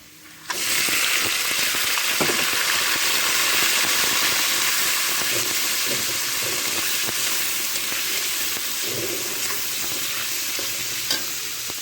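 Crabs dropped into hot oil already frying with onion, garlic, black cumin and dried chillies, a loud continuous sizzle and hiss close by, with occasional stirring scrapes and no talk.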